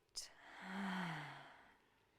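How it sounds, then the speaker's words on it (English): One slow, audible exhale out through the mouth during a yoga breathing exercise, soft and close, rising and then fading away over about two seconds. "Audible exhale out through the mouth"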